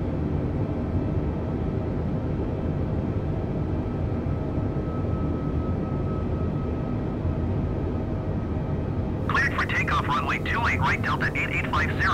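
A Delta airliner taking off in Microsoft Flight Simulator on a flight between Los Angeles and San Francisco: a steady, broad engine roar holds throughout, and a thin radio voice talks over it near the end.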